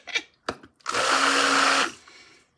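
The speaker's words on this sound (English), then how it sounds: "now hitting this with the emulsion blender like that is going to, I say hitting as in mixing" A handheld emulsion blender whirs steadily for about a second while mixing blackberry and orange soap batter, preceded by a few short knocks and clatters, loud and close with no talking.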